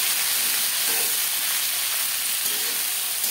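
Onions and tomatoes frying in oil with a bay leaf in a large wok, a steady loud bright sizzle and hiss close up, with no talking.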